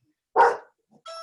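One sharp bark from a pet dog sounds up close, followed after a brief gap by a faint sustained tonal sound.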